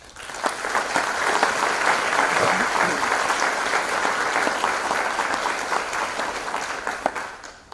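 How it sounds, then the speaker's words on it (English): Sustained applause from a crowd at a college honors convocation, steady clapping lasting several seconds with no talking. "join me in applauding the family, friends, and the host of supporters"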